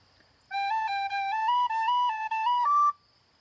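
A short tune with a triplet ornament, played as a single clean whistle-like melodic line with quick note turns, steady and fairly close, with no talking.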